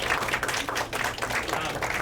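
A small audience at a Medicare information session claps, a faint, scattered patter of hands that continues steadily without talking over it.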